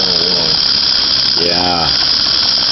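A small toy steam pump run from a boiler with a sight tube hisses steadily and loudly, with rising and falling squeals; people talk briefly close by.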